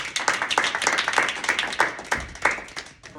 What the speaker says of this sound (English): Clap it up for Tim.